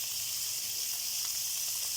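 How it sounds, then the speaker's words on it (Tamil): Fish frying in a pan over a low flame, a steady close sizzle and hiss running unbroken throughout with no talking. "சிம்மில் வச்சு ஃப்ரை பண்ணி வைக்கிறேன்."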